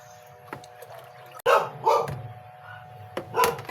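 A dog barks a few times nearby, short sharp yaps spaced apart over a quiet background with faint clicks.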